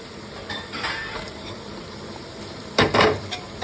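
Onion goes into a pan of sizzling green garlic for tuver na thotha: a steady frying hiss under light clinks of a spoon against the pan, then a louder metallic clatter near the end.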